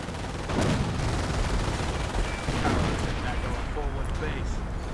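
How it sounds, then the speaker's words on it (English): Artillery fire striking a medic bunker in a World War II strategy video game, a dense continuous rumble of blasts and shell impacts, loud and sustained, with a voice talking over it. "Artillery hitting the medic bunker."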